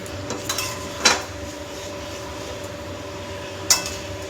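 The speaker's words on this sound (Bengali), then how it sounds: "আবার একটু ঢাকনাটা তুলে আবার একটু নাড়িয়ে দিই" Metal clinks and knocks of a spoon against a pot as potatoes go into a simmering chicken curry and get stirred, a few sharp taps spaced apart over a low steady kitchen hum.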